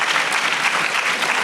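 Sustained audience applause fills a live discussion event on African American history and literature, a dense, steady wash of many hands clapping at close range with no voices over it.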